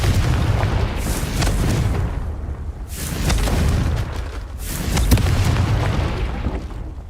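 The Confringo fire spell explodes in Hogwarts Legacy, with heavy booming blasts that roll out several times about two seconds apart. Each blast is loud and broad, with a rumbling tail that fades before the next one hits.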